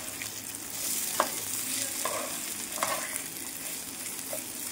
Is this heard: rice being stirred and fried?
yes